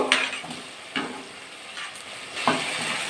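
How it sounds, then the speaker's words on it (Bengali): Potatoes frying with spice masala in a pan, a steady sizzle with a few stirring scrapes near the start, middle and end, close and moderately loud, with no talk. "আলুগুলো দিয়ে দেবো, আলু দিয়ে একটু কষিয়ে নেবো।"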